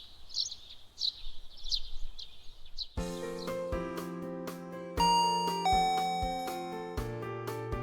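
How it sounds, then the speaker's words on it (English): A doorbell chime rings with a series of bright, sustained tones struck one after another, following a few seconds of faint bird chirps beforehand. "The chime woke me up."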